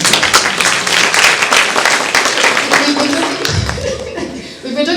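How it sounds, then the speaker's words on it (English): A conference crowd claps for a speaker at a security event in Nairobi, a brisk burst of hands that fades out toward the end as murmuring and a voice come in. "maybe you can just clap for him."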